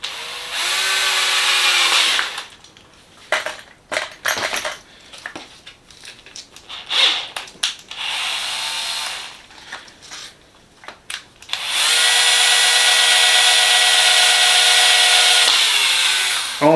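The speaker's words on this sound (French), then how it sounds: "percer un peu plus loin." Power drill boring a hole into the side of a casing: three bursts of loud, steady whirring, the first short, the last longer, separated by knocks, scrapes and handling noises, all close and with no talking.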